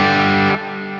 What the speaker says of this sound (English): but the amp is an SLP Super Lead Plexi 1959.